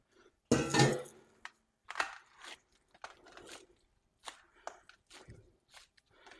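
Raw meatloaf set down and pressed into shape on a metal pan before smoking, giving a sharp clank followed by several softer knocks, pats and scrapes at close range, with no talk.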